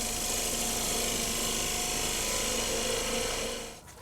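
A wood lathe spins a glued-up weed pot at reduced speed, giving a steady close whirring hum with a faint scraping tool edge, continuous and unbroken until the sound drops away at the end.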